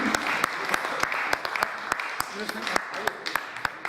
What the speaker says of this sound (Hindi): एक बार पुरजोश तालियां हो जाए हमारे शोरा के लिए